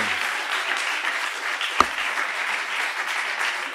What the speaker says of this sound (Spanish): Señoras y señores, un fuertísimo aplauso para él.